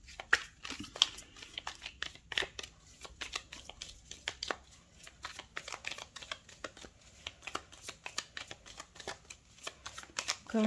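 Tarot cards are shuffled by hand up close in a long run of rapid, crisp riffles and flutters, with irregular bursts and brief gaps.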